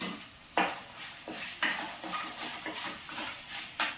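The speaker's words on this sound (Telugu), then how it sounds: "ఈ కొబ్బరి ఇప్పుడు దీంట్లో వేసేసుకొని వేగనివ్వాలి" Grated coconut fries with ivy gourd in a pan, a soft sizzle under repeated scrapes and clinks of a spoon stirring against the metal at an uneven rhythm.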